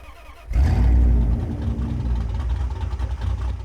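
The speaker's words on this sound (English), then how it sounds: "I'll get it started up so you guys can hear this beautiful engine" A RAM TRX truck engine in SnowRunner cranks and roars to life after a brief silence, then settles into a loud, steady idle rumble.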